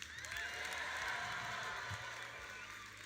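Faint, dense audience applause in a seminar hall, a steady wash of many hands clapping at a distance for about three seconds.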